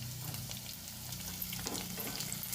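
Tomatoes sautéing in hot oil with peanuts for a fasting-day bhagar dish, a steady close crackling sizzle with a few stirring scrapes, no talk.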